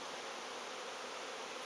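Honey bees buzzing at a beehive, a steady dense hum filling the short stretch with no pauses, faint and continuous.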